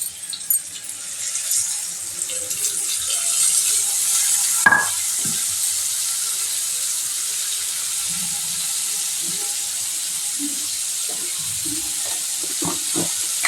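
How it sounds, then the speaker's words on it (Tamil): Steady sizzling from garlic frying in a hot pan with a sharp splash and hiss as tamarind water is poured in, followed by continued frying and light clinks of stirring. "பூண்டு பாதி செவந்தா போடுங்க அதில் இந்த புளியை ஊற்றிக்கணும்"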